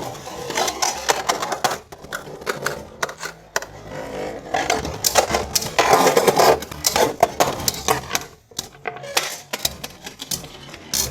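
Beyblade tops, Command Dragon and Raid Luinor, are launched into a stadium and battle with rapid, loud plastic clattering, scraping and collision bursts, then a brief lull and more hard clacks.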